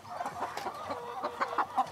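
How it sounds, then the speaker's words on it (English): Buff Sussex hen on the nest in a chook yard, giving a run of soft, rapid clucks and low grumbles, close up and steady, with no talk. "That's a buff Sussex, that hen."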